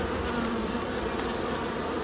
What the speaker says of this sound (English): just listen to the bees roar